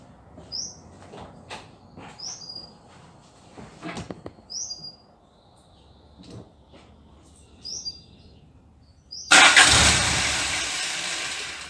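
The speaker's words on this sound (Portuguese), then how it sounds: "dar a partida no carro lá para ver" A car engine cranks and fires for the first time during a carburetor test, then keeps running with a loud steady roar near the end. Birds chirp faintly in the quiet stretch before it starts.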